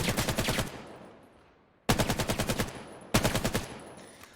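Bursts of AK-12 rifle fire in the Vail VR shooter, three rapid automatic volleys of sharp, loud cracks, each fading into a short echoing tail before the next burst, with no voices.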